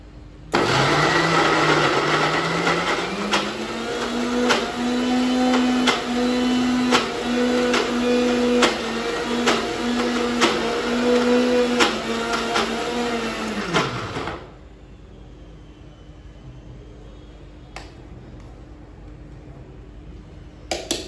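A mixer grinder whirs loudly as it grinds ginger garlic paste, a high steady motor whine with rhythmic rattling of the jar that runs about fourteen seconds and then cuts off abruptly into near quiet.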